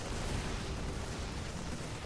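Dense, continuous roar of explosions and battle noise from a StarCraft 2 finals match, filling the whole stretch as a loud, unbroken wash with no clear separate blasts.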